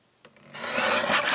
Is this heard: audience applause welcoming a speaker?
no